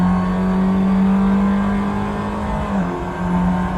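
A 2010 Tatuus FA01 formula race car at full throttle climbing Pike's Peak in Assetto Corsa, its engine holding a steady loud, high drone that rises slightly in pitch, alone with no talk.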